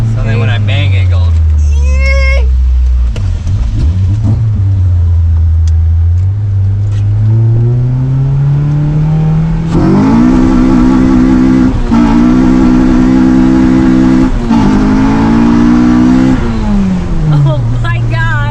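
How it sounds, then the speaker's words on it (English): A loud Acura TSX engine revs up and holds high, rising and falling in pitch as the wheels spin without grip, with voices talking over it throughout. "Revving and not catching any grip. So then when I bang it, it goes."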